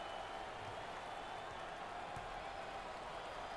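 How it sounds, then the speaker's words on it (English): A sellout basketball arena crowd at a March Madness first-round game between Miami and Seton Hall roars in a dense, continuous wash of cheering and applause from a distance, with no break. "look at this sellout crowd, and they are loving it"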